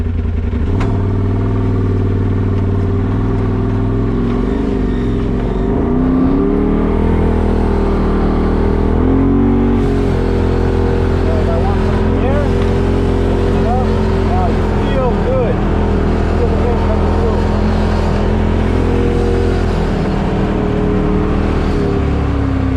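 A 2017 Polaris RZR Turbo side-by-side drives along with a vented windshield, a loud continuous engine drone with wind rush, rising slightly in pitch as it speeds up, with voices partly buried underneath.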